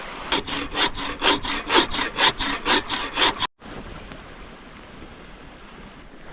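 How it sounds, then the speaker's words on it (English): A small bow saw cuts through a limb for firewood at an outdoor camp in Colorado, with about a dozen steady, rhythmic push-pull strokes, then stopping and leaving quiet ambient outdoor noise. "I brought along this little bow saw in case I find any limbs or small wood down that I can cut up for firewood"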